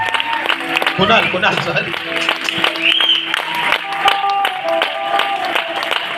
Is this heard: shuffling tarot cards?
no